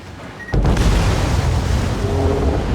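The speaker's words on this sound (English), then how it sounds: "Here comes the torpedoes." In World of Warships, torpedoes strike a warship with a sudden heavy boom that rolls into a loud, sustained low rumble of explosion and sea noise.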